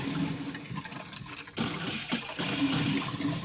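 Water runs steadily from a kinking garden hose during an RV cleanout, a continuous close hiss and gush that swells louder partway through, with no talking.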